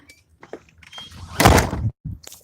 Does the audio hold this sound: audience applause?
no